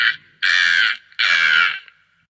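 A crow caws harshly and loudly nearby: a short call followed by two longer, drawn-out caws, then silence.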